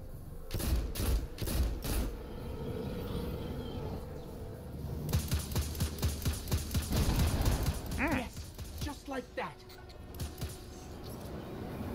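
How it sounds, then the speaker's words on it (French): Gunfire in the Destiny 2 video game, bursts of rapid shots and repeated sharp bangs at moderate level, with quieter gaps and a few electronic effects between volleys. "Je pense qu'il faut que je te tire dessus."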